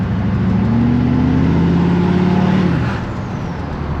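A Duramax diesel pickup truck engine gives a deep, steady rumble, droning loudly and close by, with the low tone rising slightly before easing off near the end.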